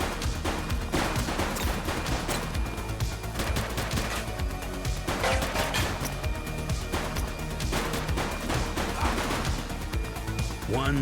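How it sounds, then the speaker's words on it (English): Rapid gunfire in the police action video game The Precinct, bursts of shots crackling continuously over a busy mix of crashes and game sounds, with brief shouted voices in the background. "He's shooting!"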